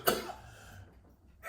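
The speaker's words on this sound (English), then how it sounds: "I'm about to have a coughing attack here." A man with allergies gives a single sharp cough close to the microphone, followed by a quiet pause and a faint rustle.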